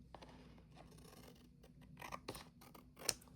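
Scissors snipping excess paper off an index card, a short run of crisp, close cuts and rustles with no talking.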